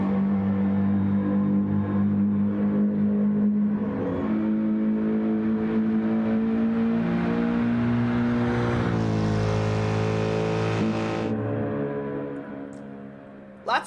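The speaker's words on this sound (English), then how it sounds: "Also has a nice, deep, refined V8 rumble in that car." A deep, rumbling BMW V8 race car engine in a racing video game at Daytona revs and shifts gears, holding a strong steady drone before rising and fading near the end.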